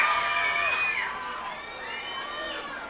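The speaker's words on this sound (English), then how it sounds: "the crowd cheering him on here" Minor-league baseball crowd at a Binghamton Rumble Ponies vs Reading Fightin Phils game cheering on a batter, a loud mass of voices and whoops that swells, then eases, with a few higher shouts cutting through.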